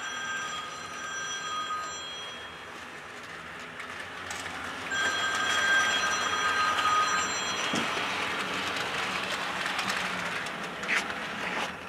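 An HO scale model train runs along hand-laid track on a layout, a continuous low rolling rumble with faint wheel clatter and high steady tones, building slightly louder partway through.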